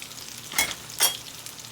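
Squashpuppies frying in a pan, a soft continuous sizzle broken by two louder bursts of crackle or stirring about half a second apart, no talking.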